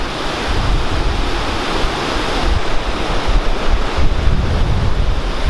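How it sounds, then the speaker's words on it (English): A waterfall at Letchworth State Park roars steadily in the distance from a steep trail above the gorge, a continuous broadband rush mixed with wind buffeting the microphone, no voices. "Far away from the waterfall, but I can still hear it just fine"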